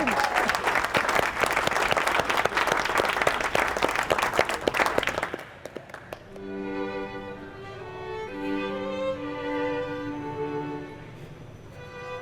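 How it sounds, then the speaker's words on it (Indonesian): Crowd at a Halal Bihalal performance event applauding a solo performer, a loud burst of dense clapping for about five seconds that cuts off into sustained musical tones. "Karin, tepuk tangan buat Karin."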